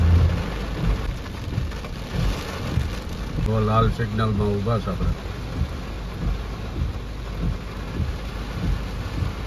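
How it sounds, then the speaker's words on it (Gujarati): Heavy rain pours down on a Surat street while a car waits at a red signal, a steady close hiss and patter with rumbling undertones. Someone talks briefly over it. "વરસાદ ચાલુ છે ધબધબાટી."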